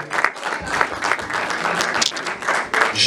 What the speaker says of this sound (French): On l'applaudit quand même, s'il vous plaît.